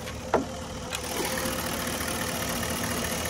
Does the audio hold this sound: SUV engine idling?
yes